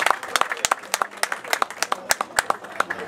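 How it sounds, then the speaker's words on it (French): A few people in an evening gathering's audience clapping close by, sharp distinct claps in a quick uneven rhythm, light and sparse rather than a full crowd. "Est-ce qu'on peut applaudir toutes ces personnes?"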